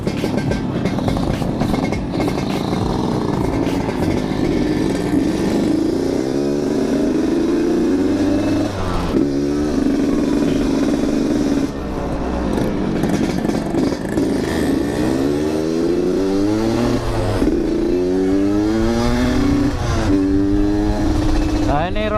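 A Yamaha RX King two-stroke motorcycle engine runs close by, a loud rough burbling note that rises and falls with repeated revving throughout, its tone slightly uneven as if the engine has sat unused a long while.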